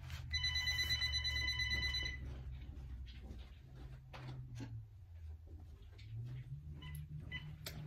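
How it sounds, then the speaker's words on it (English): A home landline telephone rings loudly and alone for about two seconds, its bright bell tone fading into a quiet room with low background hum. "Oh, shoot, my phone ringing."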